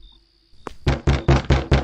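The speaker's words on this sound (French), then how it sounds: "Qui a toqué? Qui est là?" Five heavy, evenly spaced knocks land on a door in the horror video game Obsessed Trace, loud and close, after a faint thud and a quiet electronic tone; no one talks.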